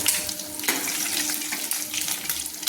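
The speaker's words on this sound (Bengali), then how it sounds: "এবার আমি বাকি মোরলা মাছগুলো আমি ভেজে নিচ্ছি" Small mourola fish fry in hot oil in a pan, giving a steady, close crackling sizzle with faint spitting bursts. No voices are heard.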